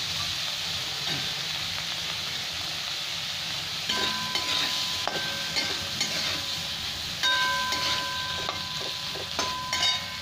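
Prawns frying in a pan for a Bengali chingri ghonto with pui shaak and pumpkin, a steady close sizzle and hiss running throughout with occasional sharper crackles and faint utensil clinks.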